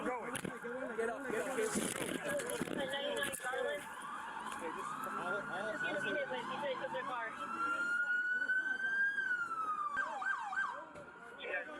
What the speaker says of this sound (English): Good, there's the ambulance.